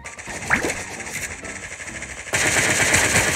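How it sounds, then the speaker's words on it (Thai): Rapid automatic gunfire from the video game Sausage Man, a loud continuous burst of shots that swells louder and denser near the end, with no voices. "ทำไมมันยิงแบบแตกแหลกมันเนาะ"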